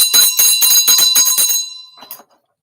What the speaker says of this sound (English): I have to ring bell